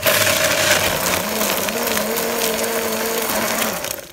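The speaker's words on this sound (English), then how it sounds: "We're gonna blend it now." A kitchen blender whirring through potion ingredients for a smoothie-like mix, a loud continuous motor whine with shifting pitch that fades at the end.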